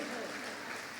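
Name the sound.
audience applause, clapping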